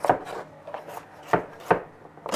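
A knife chops food on a board in a few sharp, separate knocks spaced irregularly, close and clear against a quiet background with no talk.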